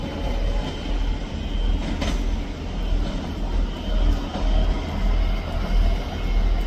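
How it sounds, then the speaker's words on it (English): A three-carriage Scotrail class 385 unit draws into Edinburgh Haymarket station, a close, steady rumble of wheels and motors with rhythmic surging pulses and a few sharp clacks over the rails. "arriving in now is the 10:05 Scotrail service from Glasgow Central to Edinburgh Waverley"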